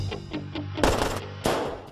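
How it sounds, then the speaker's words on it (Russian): Several gunshots ring out from a fired gun, a few quick lighter pops followed by two loud, sharp blasts with brief decays, close and unaccompanied by talk. "Я стреляла из пушки."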